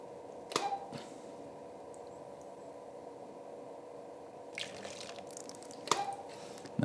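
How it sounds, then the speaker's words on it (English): Liquid drips and splashes during a photography shoot of reflections, a few distinct splashy hits spaced apart over a steady low background hiss, fairly quiet and close. "got some beautiful splashes going on now"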